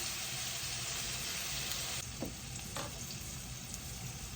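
Onions sautéing in a pan for a crab masala roast, a dense continuous sizzle close up with a couple of brief stirring scrapes.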